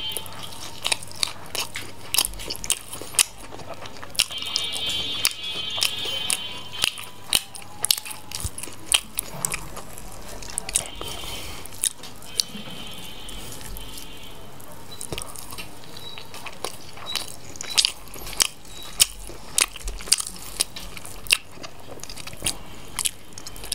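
Someone eats spicy chicken chap, butter naan and French fries close to the microphone, with steady bites, crunches and wet chewing throughout and no talk.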